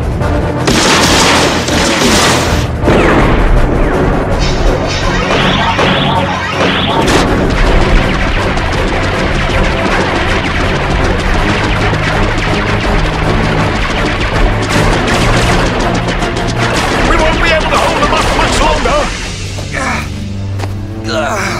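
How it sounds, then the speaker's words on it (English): Four deck cannons fire in a heavy, sustained barrage of booming blasts and crashes that fill the scene loudly from start to finish, with no clear gaps. "Four deck cannons in position."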